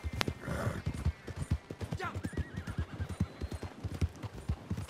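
Horses gallop in the video game Red Dead Redemption 2 Online, a fast, steady clip-clop of hooves close by with a brief whinny early on, while a person talks intermittently.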